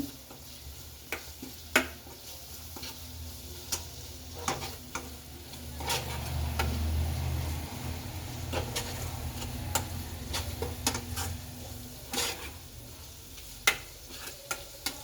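Quiet, steady sizzling from a pan during cooking for egg pulusu, an Indian egg curry. Scattered sharp ticks of stirring break through, with no one speaking.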